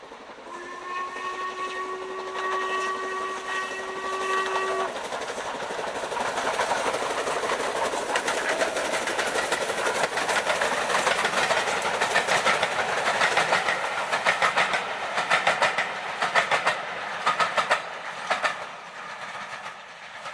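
The steam locomotive Duchess of Sutherland passes on the East Lancs Railway, opening with a long, loud steam whistle blast. Its rhythmic chuffing and clattering wheels then build and hold close by to the end.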